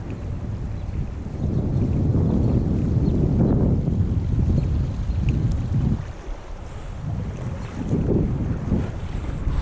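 Gusty wind roars across the microphone outdoors during trout fishing in New York, rising and falling in loud, rumbling surges with a brief lull in the middle.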